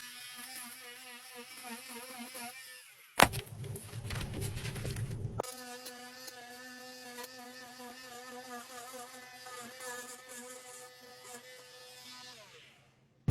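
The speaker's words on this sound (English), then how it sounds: "I'm going to cut along the edges. And I do that with my multi-tool" Oscillating multi-tool with a sharp blade cutting RV carpet along the edges, a close high-pitched buzzing whine running steadily, broken by a brief harsher rasp as the blade bites in, then whining on before stopping.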